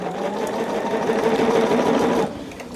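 Sewing machine stitching in one steady, close run of rapid needle chatter for about two seconds before stopping.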